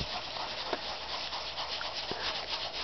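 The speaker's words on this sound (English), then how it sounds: "A lot of people like to go with cleaners and detergents, but I go straight to rubbing compound." Rubbing compound worked by hand over the roof of a Lionel 1630 prewar passenger car, a quiet, steady hiss of abrasive rubbing that continues evenly with faint strokes and no talking.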